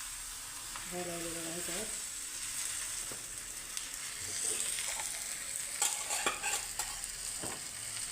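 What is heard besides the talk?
dhapate flatbread frying on a pan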